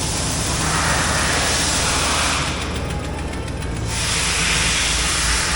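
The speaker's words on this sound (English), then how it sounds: "There is an air hose over there going" Steady, loud broadband hiss of escaping air runs continuously and close by, with a low engine-like rumble underneath and a brief dip midway.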